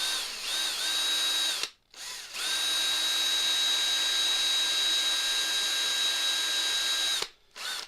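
A power drill whines loudly at a steady pitch in two bursts, a brief one then a long sustained run, with short pauses between, drilling test parts for a kick pedal.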